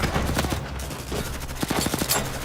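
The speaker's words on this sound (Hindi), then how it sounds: "फायरिंग करते रहो।" Rapid bursts of automatic gunfire from an action movie scene, a dense crackling fusillade of repeated shots running through the whole stretch with little pause.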